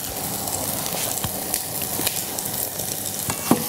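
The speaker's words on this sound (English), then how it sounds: "just unravel and pop the sausage meat straight in" Loose sausage meat sizzles in a hot frying pan for a Milanese sausage, tomato and pasta ragu, a steady close crackle with a few sharp pops and spoon taps.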